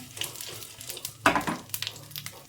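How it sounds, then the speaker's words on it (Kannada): Curry leaves and dried red chillies sizzle in a little hot oil for a tempering, a steady crackling fry with a sharp spitting burst partway through and light stirring. "ಸ್ವಲ್ಪ ಕರಿಬೇವು ಹಾಗೆ ಸ್ವಲ್ಪ ಒಣಮೆಣಸಿನ್ಕಾಯಿ ಸ್ವಲ್ಪ ಒಗ್ಗರಣೆ ನೀಟಾಗಿ ಬಾಡಿಸ್ಕೊಳ್ಳಿ"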